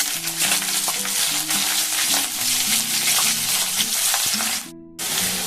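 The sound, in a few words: chopped onions frying in oil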